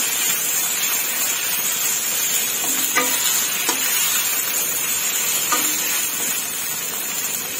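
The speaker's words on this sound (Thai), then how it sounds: "หนูก็เลยจะมาผัดเลยค่ะ" Cabbage and mushrooms stir-frying in a wok for Hokkien-style noodles, a loud, steady close-up sizzle and hiss with a few scraping stirs of the spatula breaking through.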